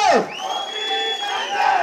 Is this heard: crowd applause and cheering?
yes